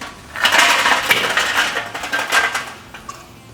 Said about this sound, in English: I'll fill a chimney basket with briquettes just so I know exactly how much fuel I'm going to need for this cook